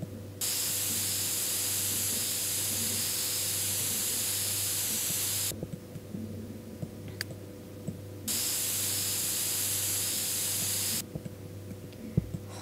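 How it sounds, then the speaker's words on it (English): A spray of water hisses in two long bursts, each several seconds long with a short pause between them, loud and steady over a constant low background hum, with no talking. "spray noise."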